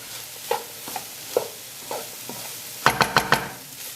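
Dry paneer cheese curry cooking in a pan, with a faint sizzle under scattered spatula taps and stirring scrapes, ending in a quick run of four louder knocks, close and with no speech.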